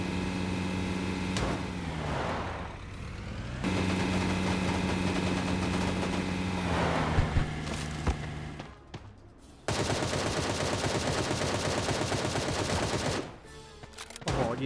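Gunfire in the mobile battle royale game Sausage Man comes as clusters of sharp shots and then a dense stretch of rapid automatic fire, over a droning vehicle engine hum and with brief gaps between bursts.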